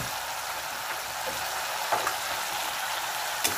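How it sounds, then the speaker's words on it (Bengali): Chilli powder and turmeric sautéing in hot oil for a chana dal, a dense, even crackling sizzle throughout with a couple of faint stirring taps. "মশলাগুলোকে ভালো করে একটু কষাবো।"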